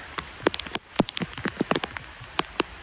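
Rain patters on a surface at Karnala Fort, with irregular drops tapping close by over steady soft background hiss.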